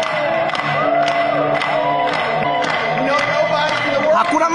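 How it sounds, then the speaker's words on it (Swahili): Church congregation clapping rhythmically and cheering during a Swahili-language service, a steady beat of many hands with whoops and voices mixed in. "Hebu tumpige makofi."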